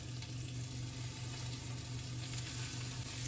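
Meatballs sizzle steadily in melted butter in a frying pan, a close, continuous crackling fry with no talk over it.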